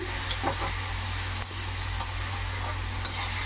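Bitter gourd curry with salt, cooked in a pan on a stove, gives a quiet, steady sizzle, with a few light ticks and clinks from stirring spread through the clip.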